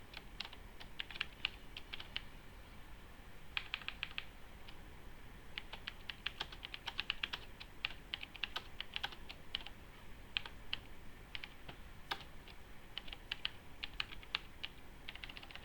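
Steady close typing of code on a computer keyboard, irregular bursts of light key clicks with brief pauses, quiet and alone.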